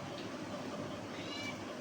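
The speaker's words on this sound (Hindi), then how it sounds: "जब देखो म्याऊं म्याऊं म्याऊं म्याऊं करती रहती है" A cat meows a few times, fairly close, over a steady background hum, with no talking.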